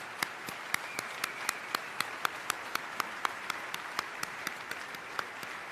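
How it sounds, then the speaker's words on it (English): An audience gives graduates at a senior ceremony another round of applause, a steady patter of many hands with a few loud, evenly spaced claps from one nearby person punching through the crowd sound. "Let's give them one more round of applause here."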